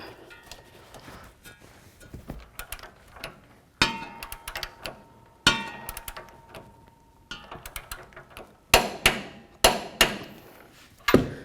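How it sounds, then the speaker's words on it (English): Repeated sharp metallic clicks of a ratchet and torque wrench tightening an air shock bolt on a 2007-2014 Cadillac Escalade come in uneven bursts, louder clacks near the end, close up. "Let's torque this to 85 foot-pounds. Down on that ratchet."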